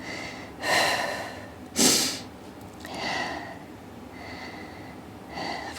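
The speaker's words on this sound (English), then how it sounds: "Of course, I'm still breathing" Heavy, audible breaths come in several long huffs during Bosu ball core leg flutter kicks, close to the mic and spaced a second or so apart, with no talking.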